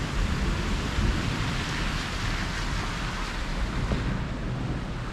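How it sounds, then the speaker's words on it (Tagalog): Heavy rain mixed with hail pours down at a home in Italy, a dense, steady roar of drops on surfaces with a few sharper hits, loud and close throughout with no voices. "ayan nga, bumagsak na ho yung ulan no"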